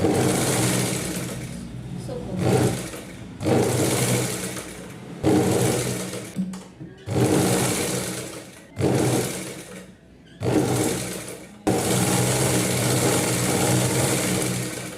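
A sewing machine stitching a Rajalaxmi-style nauvari saree runs in repeated loud bursts of a few seconds each, separated by short pauses, ending in one long continuous run.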